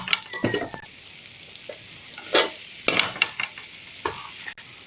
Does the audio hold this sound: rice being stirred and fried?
yes